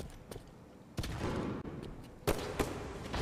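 Light rifle shots in a first-person shooter video game, a few sharp separate cracks spaced irregularly across the moment, with faint game ambience between them.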